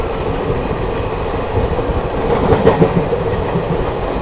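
Mussoorie Express rolling out of Delhi Shahdara, heard from inside an ICF first AC coach as a steady loud rumble with faint wheel clatter and no talk.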